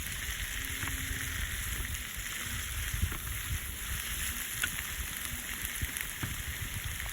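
Shrimp sautéing in butter with plenty of garlic, a steady crackling sizzle with dense popping droplets, close and continuous throughout with no talk.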